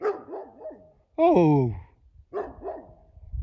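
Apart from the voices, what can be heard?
dogs barking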